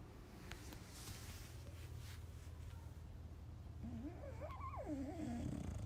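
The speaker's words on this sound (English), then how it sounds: "I mean, he snore." A sleeping dog snores with low, rough, rhythmic breaths close by over a steady background hum, and a wavering whine-like tone rises briefly near the end.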